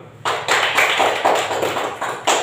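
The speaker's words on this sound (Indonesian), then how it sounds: "tepuk tangan dulu" Classroom applause from students during a teaching-practice session, a dense burst of clapping that runs steadily for about two seconds with a short pause and a fresh burst near the end.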